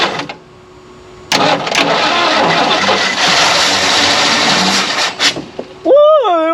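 Abandoned Lincoln Continental with sticky valves, silent after 32 years, cranks and catches into a loud ragged running engine for several seconds before it cuts out. A short sweeping whine follows at the end.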